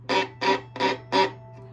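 Four short, harsh bowed bursts on two strings at once, each scratchy and crunchy from heavy, slow bow pressure, with brief gaps between them.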